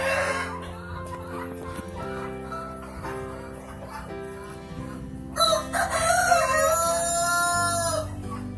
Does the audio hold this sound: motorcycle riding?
no